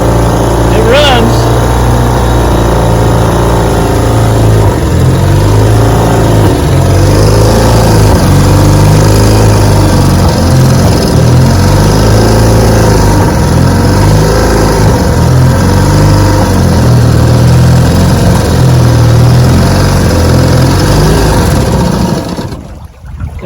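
Vintage outboard boat motor running in gear with a loud, continuous engine drone that rises and falls as it surges in and out, cutting off abruptly near the end.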